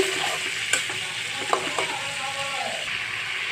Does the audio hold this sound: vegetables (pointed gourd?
yes